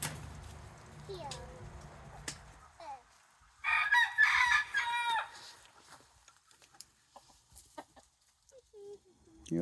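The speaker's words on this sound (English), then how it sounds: "they're feeding their little chickens" Chickens and a rooster in a backyard bird house with peacocks, heard with a loud crow and scattered clucks, fairly close, while people talk nearby.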